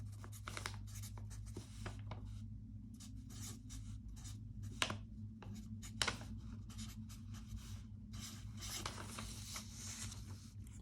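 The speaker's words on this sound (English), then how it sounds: "So we're going to go ahead and write those down just so we can have them for our references." Pen or pencil scratching equations onto paper by hand, steady close scratchy strokes with brief pauses and a couple of taps, alone over a low steady hum.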